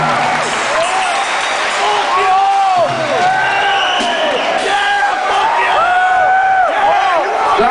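A metal concert crowd at a show cheers, whoops and claps in a loud, sustained roar, with individual shouts rising and falling over dense applause.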